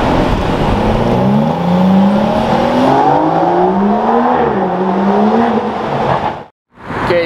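A Lamborghini Superleggera with a straight-piped exhaust, loud and close, its engine revving in rising and falling waves before cutting off abruptly.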